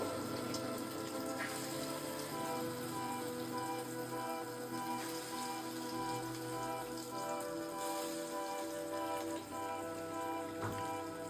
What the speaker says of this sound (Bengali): এই পিসগুলো ভাজতে দিয়ে দেবো